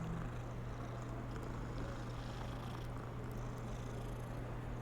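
A cat in the video game Hogwarts Legacy purrs while being petted, a soft, continuous low rumble that stays steady and quiet throughout.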